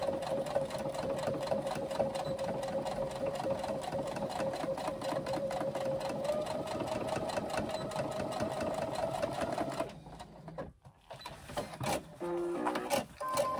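Domestic sewing machine stitching through the bulky box corners of a bag, a steady close mechanical whir with rapid needle rhythm for about ten seconds, then stopping into a few short bursts and quiet handling noises.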